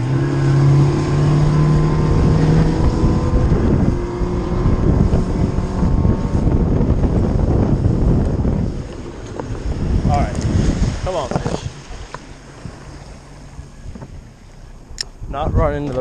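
A fishing boat's outboard motor runs at full throttle off Nantucket, a loud steady roar with heavy wind buffeting that fades after about ten seconds, leaving quieter water and wind sounds.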